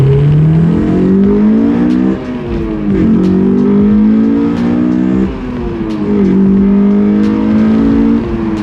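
A Honda S2000 sports car engine hums and revs in rising, falling sweeps, loud and close, with a couple of gear-change dips.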